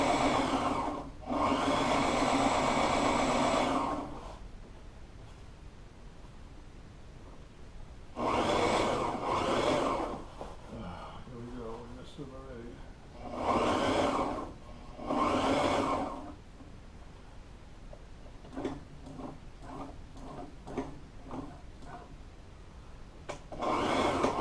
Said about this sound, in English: Obviously not the ideal way to be sewing because of the size of